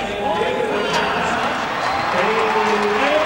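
Rodeo crowd at a PBR bull riding event in Worcester applauding and cheering a bull rider's 88.5-point score, a dense, sustained roar of clapping and voices filling the arena under an announcer talking.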